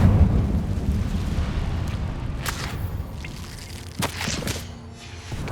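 The Incendio fire spell is cast in Hogwarts Legacy: a loud roaring whoosh of flame that swells at the start and slowly fades, broken by a few sharp crackling bursts near the end.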